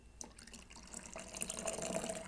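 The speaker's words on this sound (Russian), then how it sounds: "Налью сюда водички" Water pours from a kettle into a cup for brewing coffee, a close, steady trickle that swells into a fuller splashing stream.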